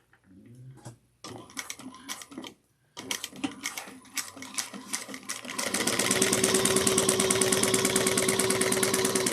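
A sewing machine sews a 3/8-inch seam on a Bella bucket bag, starting with a few short stop-start bursts of stitching before settling into a loud, continuous close-up run.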